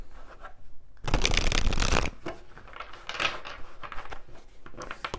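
Tarot cards being shuffled up close: a loud, dense riffle burst lasting about a second, then softer irregular card handling and slides continuing throughout.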